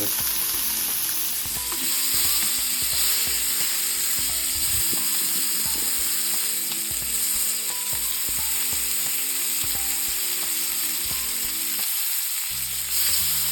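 New Zealand beef steak grilling on a hot surface, a loud continuous sizzle and hiss with rapid crackling pops and clicking, steady throughout with no voices.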